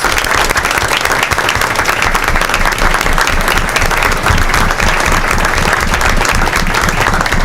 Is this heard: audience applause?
yes